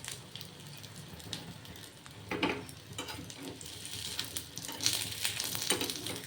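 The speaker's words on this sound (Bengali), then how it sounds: "সাইড দিয়ে একটু ঘি দিয়ে দেবো দ্বিতীয় পিঠটাও যাতে সুন্দর করে ভাজা হয়ে যায়" A bun dosa fries in ghee in a pan with a steady, close sizzle, crackling and popping in irregular spurts, and no talking over it.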